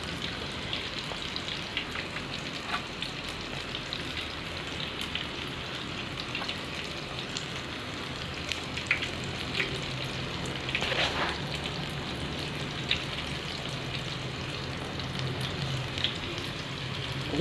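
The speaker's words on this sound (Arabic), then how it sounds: "هنقلب الفلفل اهو وفتحاه عشان ما يفرقعش في الزيت" Stuffed peppers and tomato quarters frying in oil give a steady, even crackle like light rain, fairly soft and continuous throughout, with a few sharper pops standing out.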